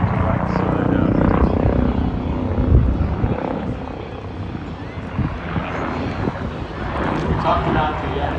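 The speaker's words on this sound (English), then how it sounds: "Aaron flies his beautiful Red Bull helicopter high to the right" The Red Bull helicopter flies aerobatics at the Oshkosh 2023 air show, its rotor thrumming loudly beneath gusty wind noise while a voice talks over it.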